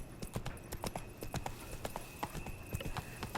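Roach, the horse in The Witcher 3, clip-clops along at a steady trot, with quick evenly spaced hoofbeats at moderate distance over a faint background hum.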